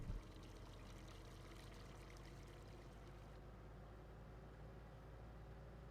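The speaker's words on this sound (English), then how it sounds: "Looks like there's a water point up here too, which is kind of nice." Water trickles and pours steadily at a water point on a Farming Simulator 19 farm map, a continuous close wash running under a low engine-like rumble throughout, with no talk.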